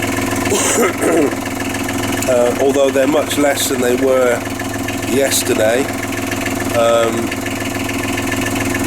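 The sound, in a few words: engine running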